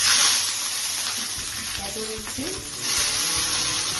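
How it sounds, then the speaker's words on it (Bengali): Capsicum frying in hot oil with cloves gives a steady, close sizzle throughout, with a few faint scrapes and clinks of stirring in the middle. "দিয়ে ক্যাপসিকাম গুলোকে একটু ফ্রাই করে নিচ্ছি"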